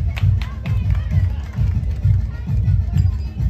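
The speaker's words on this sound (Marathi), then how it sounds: "जोरदार टाळ्या झाल्या पाहिजेत" Applause at an award ceremony for a prize winner, a loud burst of crowd clapping with rhythmic claps throughout, and some voices in the background.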